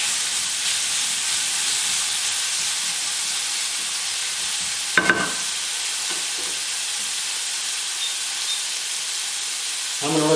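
Onions and meat cooking slowly in a pan over low heat for Salisbury steak, giving a steady, even sizzle and hiss throughout, with a brief clatter midway and no one talking.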